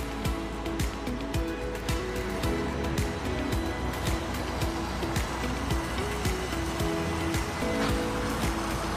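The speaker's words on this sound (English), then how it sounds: "There's another water fountain." Park water fountain splashing steadily outdoors, a continuous broad rush of falling water with no break, close and fairly loud.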